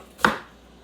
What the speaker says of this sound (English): cutting up the onions. I'm cutting them in chunks.